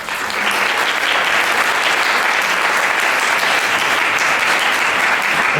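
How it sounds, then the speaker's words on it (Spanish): Sustained applause from a large audience at a parapsychology and syntergic theory conference, dense and steady throughout without a break. "Un gran aplauso, por favor."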